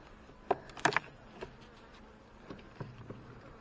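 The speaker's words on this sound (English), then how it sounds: "Lots of bees there." Honey bees buzzing around an open hive, a faint low drone with a few close, brief sharper buzzes of bees passing near, no talking.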